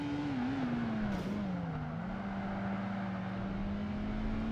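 A Porsche race car engine in Project Gotham Racing 2 drones steadily at high revs down a straight, a sustained, even tone with a slight waver in pitch and no talking.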